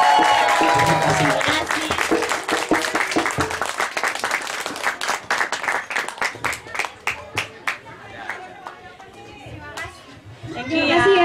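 Audience applause at a motivational event in Indonesia, loud clapping mixed with children's voices and crowd chatter, tapering into scattered claps before a voice returns at the end.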